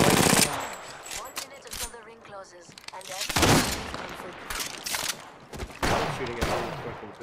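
Gunfire in the video game Apex Legends crackles in rapid automatic bursts and scattered single shots, loud and close, mixed with game effects and people talking.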